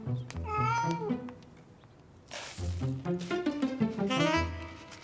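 A cat meows repeatedly and loudly up close, long wavering cries with one pause, then a run of several more insistent meows.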